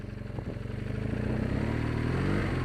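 A motorcycle rides out of the back end of a mud puddle as its rear wheel slides sideways, the engine note rising in a steady revving drone, close and continuous for a few seconds.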